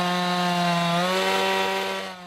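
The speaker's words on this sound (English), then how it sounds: "I've got an engineer here today drilling down, taking some soil samples." A drilling rig bores into the ground to take soil samples at a Melbourne house site, giving a loud, steady, droning engine whine with a slight drop in pitch partway through, close by and with no voices.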